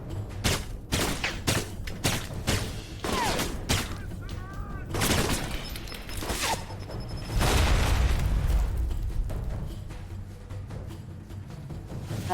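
Repeated booming blasts and bursts of gunfire in the Alpha Protocol video game, grenade explosions landing loud and close at irregular intervals, with a long heavy rumble near the middle.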